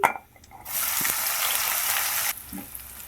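Chopped onion and green chili hit a hot pan for a prawn gravy curry, bursting into a loud, steady sizzle that holds for a couple of seconds and then drops away abruptly.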